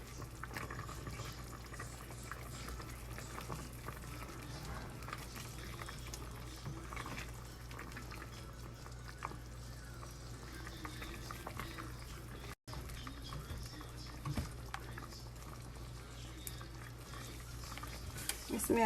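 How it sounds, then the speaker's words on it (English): Flour whisked into simmering chicken broth for chicken and dumplings, giving a continuous low bubbling and liquid churn with faint scraping, steady throughout at moderate loudness. "add a little in here at a time and whisk it because I don't want it to turn into a clump"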